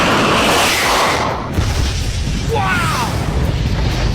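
Aviation rocket propellant motors ignite on a test track sled with about 76,800 pounds of thrust, producing a loud sustained roaring rush. A voice exclaims briefly partway through.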